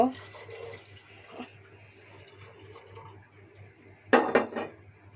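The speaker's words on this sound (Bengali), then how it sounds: "পানিটা গরম করে নিয়েছি, এখন পানিটা দিয়ে দিব।" Hot water is poured into a pot of fried khichuri spices, a brief loud splash and sizzle burst near the end after quieter clinks of pots and utensils, with a voice talking faintly.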